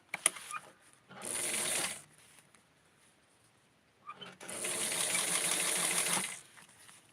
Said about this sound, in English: I'm actually going to be hemming the bottom.